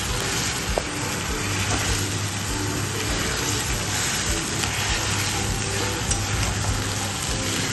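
Ginger, garlic, cumin and coriander paste sizzles steadily in hot oil while being sautéed and stirred for a doi katla curry, a close, continuous frying hiss with occasional spoon scrapes and no talking.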